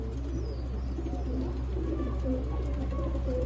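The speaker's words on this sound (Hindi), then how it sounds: "ये बड़ा ही हमारा पसंदीदा कबूतर है" Sialkoti pigeons coo in low, repeated throaty rolls close by, forming a steady layered murmur from several birds with faint chirps above.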